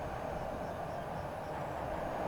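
An EN57 electric multiple unit running in the SimRail train simulator gives a steady, even rumble of wheels and motors that holds constant throughout.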